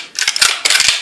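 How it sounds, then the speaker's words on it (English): A rifle's bolt carrier group driven forward by its spring produces quick, sharp metallic clacks and slides in two short bursts, close and fairly loud, with no voices. "This spring pushes the bolt carrier group forward."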